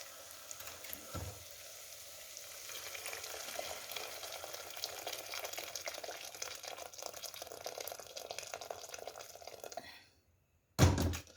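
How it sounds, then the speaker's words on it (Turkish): Chicken meat for a soup frying in a pot gives a continuous, fairly loud sizzling hiss with faint popping, then cuts off abruptly, followed by a brief thump near the end. "İndi biraz qovrulsun bu."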